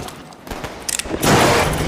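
Gunfire in an Italian-language violent action film, a cluster of sharp cracks and bursts building into a loud sustained blast near the end, with no clear speech over it.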